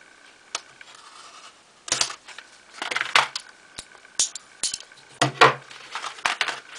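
A blade cuts through a sticker seal on the side of a phone case package, producing a series of sharp, close plastic clicks and scrapes in irregular bursts over near silence.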